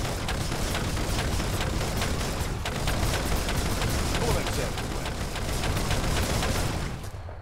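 Rapid gunfire from a combined gun setup in the action game Biomutant, a dense, continuous stream of quick shots and impacts lasting several seconds before cutting off abruptly.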